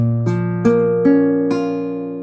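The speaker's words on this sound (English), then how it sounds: "So now, our minor bar chord, if I'm starting on this string, sounds like this." A minor barre chord on a guitar strummed four times in a slow, even rhythm, each strum ringing out and overlapping the next, close and clear with no voices.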